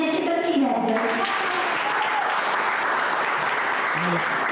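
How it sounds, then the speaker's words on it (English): A crowd claps at the inauguration of a new centre, a dense, steady wash of applause that runs the whole time, with a voice speaking over it at the start. "So a big clap for electrical team as well."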